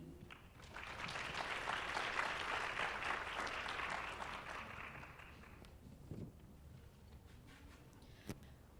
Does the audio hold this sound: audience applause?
yes